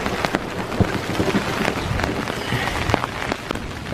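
Steady rain falls through a thunderstorm on a hike in Iroquois Park, a dense constant patter of drops on surfaces with scattered louder splashes close by, no voices.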